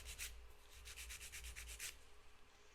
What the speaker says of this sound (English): filing the tip here as well